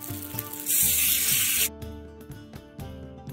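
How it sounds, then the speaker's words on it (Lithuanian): Cornstarch-coated marinated meat dropped into hot oil for a Chinese-style dinner, a loud bright burst of hissing sizzle for about a second, then settling into quieter crackling with clinks of utensils. "Aliejus įkaito, kepam."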